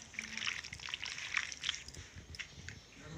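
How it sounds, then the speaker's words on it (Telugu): Lemon juice squeezed and dripped onto chicken pieces marinating with ginger-garlic paste for curry, a faint, close patter of small drips and trickles without any talk. "ఇందులో పెరుగు వేయకుండా నేను ఈసారి నిమ్మరసం వేస్తున్నానండి"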